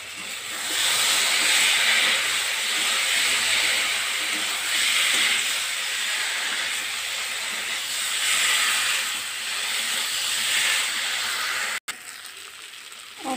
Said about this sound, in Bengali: এবার এর মধ্যে ভেজে রাখা আলু আর ডালটা অ্যাড করে দেব।